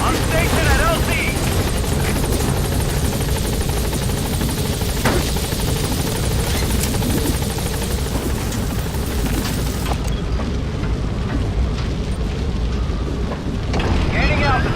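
Pequod, the helicopter in Metal Gear Solid V, holds a steady loud rotor roar and hum throughout, a radio voice speaking over it.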